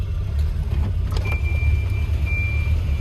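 A 1984 Volvo 240 engine runs at a steady idle, a close, loud low rumble with a faint thin whine above it.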